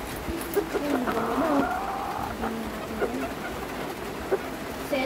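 Pigeons kept in a backyard loft, soft cooing calls repeating intermittently at moderate distance, with occasional clicks and light movement in the background.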